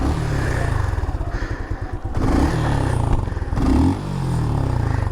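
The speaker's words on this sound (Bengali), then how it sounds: "বাইকটা স্টার্ট দিয়ে চেক করে নেবেন বাইকের সাউন্ডটা ঠিকঠাক আছে কিনা।" An older second-hand motorcycle engine idles steadily, close up, with a rhythmic low throb and brief revs and clatter partway through.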